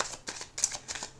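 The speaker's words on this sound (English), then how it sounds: "So I'm going to do another rifle and another shuffle." A deck of tarot cards is riffle shuffled in quick, crisp bursts of fluttering card snaps, about five short rustles in rapid succession, close and clear.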